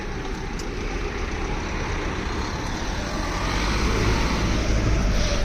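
Road traffic rumbles steadily as cars pass along a road, a continuous broadband wash of engine and tyre noise that grows slightly louder toward the end, with no talking.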